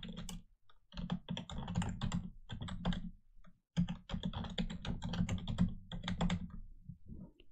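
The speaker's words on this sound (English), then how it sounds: "So I'm going to enter a password for this domain server now." Fingers type on a computer keyboard entering a password, a close, quick run of crisp key clicks in several bursts with brief pauses and no talk.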